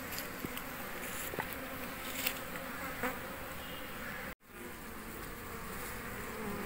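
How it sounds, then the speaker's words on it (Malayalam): Honey bees buzz around a person standing still in a home garden, a steady close droning hum with small swells as insects pass near, and one brief dropout. "നിങ്ങൾക്ക് കാണാം എൻ്റെ ചുറ്റും തേനീച്ചകൾ കിടന്ന് പറക്കുകയാണ്"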